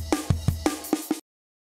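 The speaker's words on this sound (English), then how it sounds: "Here's the sound of me restarting the loop by choosing the first slice twice." A short sliced drum machine breakbeat of punchy kicks and snares plays in a choppy pattern, restarting by repeating its first slice before cutting off into silence.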